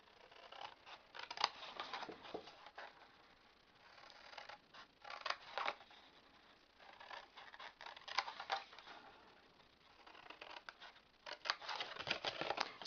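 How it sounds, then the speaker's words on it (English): Scissors cut score lines in pizza box card in short, crisp snips and scratchy rasps that come in small bursts with brief pauses, quiet and close, with no talking. "So we're going to cut straight up."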